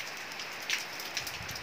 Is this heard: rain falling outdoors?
yes